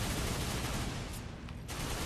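Gunfire rattles out in rapid, dense bursts from a weapon in the video game Darksiders 2, loud and continuous across the short stretch without any voice over it.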